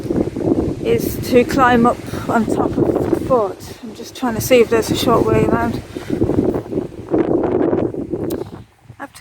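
Wind gusts buffet the microphone along the seaside grounds of a fort in Yarmouth, Isle of Wight, a steady low rumble running beneath someone talking almost throughout.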